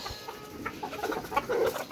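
Fayoumi chickens on a rooftop give soft, scattered clucks and short calls at close range, with no voices and faint background noise throughout.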